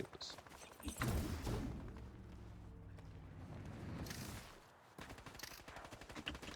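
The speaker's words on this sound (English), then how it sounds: "So that guy way off in the distance, he is shooting." Distant gunfire in a Fortnite match, faint rapid shots crackling far off amid game sounds, with a louder thumping burst near the start and scattered sharper pops later.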